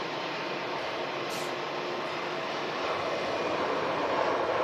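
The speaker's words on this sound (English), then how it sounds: "British Airways heading out to London Heathrow. A319." A British Airways Airbus A319 departing Manchester Airport for London Heathrow produces a steady, broad jet engine roar, loud and continuous, slowly swelling toward the end.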